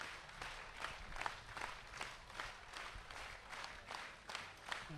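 An audience at a night program claps in steady time, a distant, fairly faint rhythmic beat of many hands with soft crowd noise underneath.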